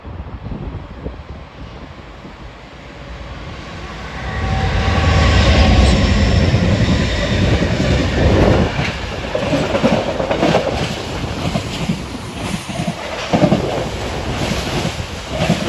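Freight train passing Tapton Bridge in Chesterfield, a broad rumbling roar that swells after a few seconds and holds steady with rhythmic clattering of wagons, heard outdoors with wind buffeting the microphone.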